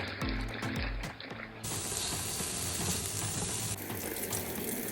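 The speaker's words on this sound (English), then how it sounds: "Put bacon into the Instant Pot and fry it until it becomes crispy." Bacon fries in an Instant Pot on sauté mode, a dense, constant hiss and spatter heard up close, with a few sharp knocks at the start and the texture shifting midway.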